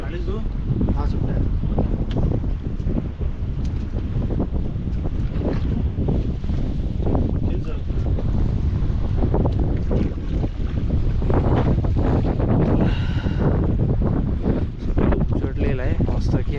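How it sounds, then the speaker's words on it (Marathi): Strong wind buffets the microphone aboard a fishing boat on the deep sea near the Bandra–Worli Sea Link, a steady roaring rush with water and engine noise underneath, constant throughout. "वारा पण जाम आहे."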